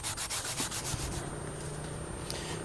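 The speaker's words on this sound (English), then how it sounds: "last thing I do is just sand it" Sanding a show horse's hoof smooth after shoeing: rapid rhythmic rasping strokes up close at first, then a steadier continuous abrasive scrubbing, with no voices.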